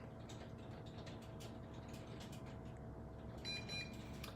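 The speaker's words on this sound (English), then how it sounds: "and then you'll hear a double beep." A short electronic double beep from an Altair Aerial Outlaw SE drone controller connecting stands out near the end over a steady mechanical hum and faint clicking.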